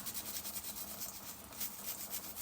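A bristle brush scrubs a soapy vintage Star Wars toy in brisk, close, rhythmic scratchy strokes, heard alone.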